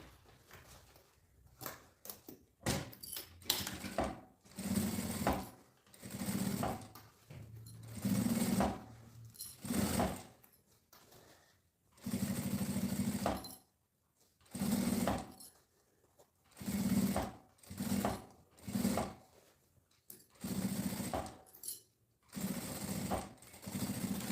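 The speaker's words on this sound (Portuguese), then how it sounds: "Uma costura com um pé de máquina em toda a volta" Sewing machine stitching a seam around a circular backpack panel, short bursts of fast mechanical whirring separated by brief pauses as the fabric is turned, steady and close.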